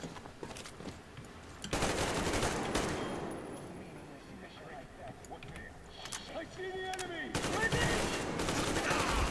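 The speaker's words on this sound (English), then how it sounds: "He fucking gunned me down in his death animation." Enemy gunfire in the shooter Metro Exodus, bursts of automatic fire crackling in loud stretches separated by quieter gaps, with shouting voices mixed in.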